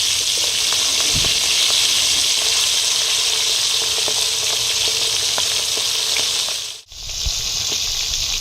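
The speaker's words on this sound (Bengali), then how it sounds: "এবার আমি খয়রা মাছগুলোকে ভেজে নেব।" Khaira fish frying in hot oil, a loud continuous sizzle with faint popping and crackling, close by and without speech, with a brief dip near the end.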